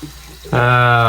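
Water splashes from a running faucet as fingers are wetted to rehydrate shaving lather for a straight razor shave; a short soft patter gives way to a louder, steady stream close by.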